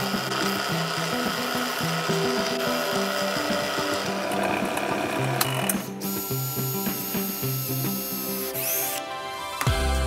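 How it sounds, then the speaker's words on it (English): Wood for a Jet-Puffed marshmallow crossbow being drilled with several holes along a line, a steady mechanical grinding and ratcheting bite into the wood that runs loud and continuous, with a brief change near the end. "drill about three or four holes along this line to create an opening"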